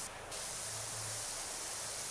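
A steady, loud hiss of a pressure washer hose spraying in PowerWash Simulator 2, running continuously with a faint low hum beneath.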